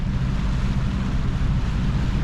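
A sailing boat motors under engine past Deal toward South Foreland, with a steady low engine rumble and broadband wind and water noise that stay constant and loud throughout, with no voices.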